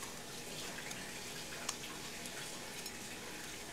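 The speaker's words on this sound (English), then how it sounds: "we will do in the frying pan now with salted butter again" Food frying in salted butter in a frying pan gives a steady, close hiss and crackle that holds evenly throughout, with one brief sharper pop near the middle.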